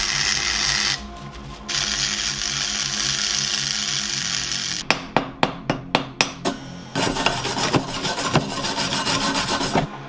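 Budget MIG welder running on 3mm thick metal: a loud crackling buzz that breaks into a series of short sharp bursts, then resumes as a steady sizzle, close up with no talking.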